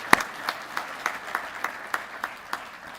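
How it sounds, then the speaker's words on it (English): Steady, evenly spaced hand claps from an audience at a high school Veterans Day ceremony, following a school band's performance: a crisp rhythmic beat of roughly three or four claps per second, moderately close, with no talking. "Another round of applause."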